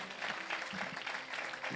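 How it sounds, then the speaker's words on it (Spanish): A church congregation at a Sunday service claps in a brief, even burst of applause, heard at a moderate distance and fairly quiet. "aplauso nuevamente al Señor en esta tarde."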